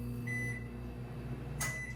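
A Drew Barrymore-brand microwave oven hums steadily while running, with a short electronic beep early on and a brighter beep near the end over the constant drone.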